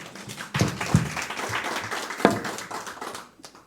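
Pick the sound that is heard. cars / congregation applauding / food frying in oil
congregation applauding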